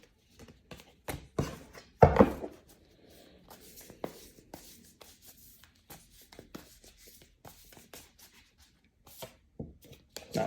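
Tarot cards shuffled by hand in a series of quick dry riffles and soft slaps, with a louder burst of card noise early on and scattered taps afterward, close and fairly quiet.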